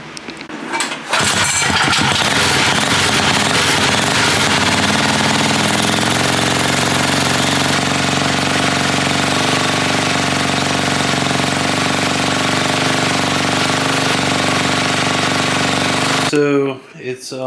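A freshly built Coleman 196cc small engine fires up on its first start and runs steadily at a loud, rough, rattling idle for about fifteen seconds, then cuts off abruptly.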